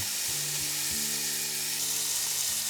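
An Italian pork roast sears in a hot pan, giving a steady, even sizzle with low intermittent tonal scrapes as the meat is turned, close by and with no talking.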